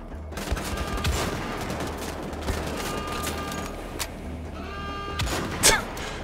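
Gunfire in the video game Wolfenstein: The Old Blood, with rapid overlapping shots and clattering bursts over a dense, steady background of game noise, loud throughout with a sharper blast near the end.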